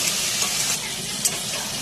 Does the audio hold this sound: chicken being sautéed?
yes